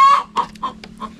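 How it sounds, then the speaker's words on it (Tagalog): A chicken clucks several times in quick succession, loud and close, with short rhythmic calls. "Ang ingay ng manok."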